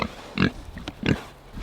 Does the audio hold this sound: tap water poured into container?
no